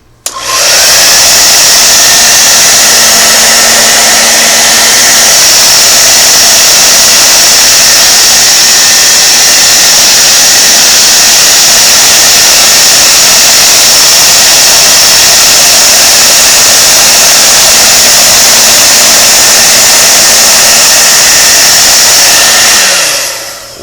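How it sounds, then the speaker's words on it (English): A cheap hair dryer blows steadily on freshly washed small parts from a Singer Model 404 sewing machine, a loud continuous whirring rush that runs unbroken for the whole stretch and cuts off at the end. "I'll just blow them for a minute or two with a hair dryer"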